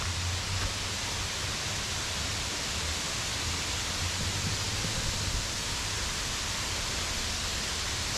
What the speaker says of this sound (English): start to get your first view of the waterfall